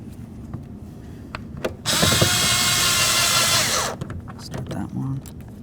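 Power drill driving two long bolts into the handle of a 1992-2000 Chevy Tahoe front driver's door, one loud steady whirr of about two seconds, with tool clatter and handling noises before and after.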